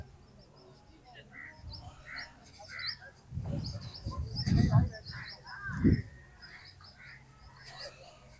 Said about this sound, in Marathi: बघा पक्ष्यांचा चिवचिवाट आहे